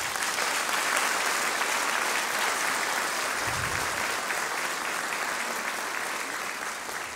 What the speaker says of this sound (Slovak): Ešte raz veľký potlesk pre vás.